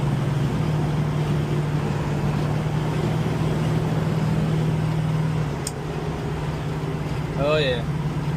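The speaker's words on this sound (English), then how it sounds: "Give it a bit of a squirt." A Plymouth Cuda with a 340 stroker V8 drones steadily and loudly close by, its engine note holding through most of the stretch before easing off near the end, with a brief higher sweep at the finish.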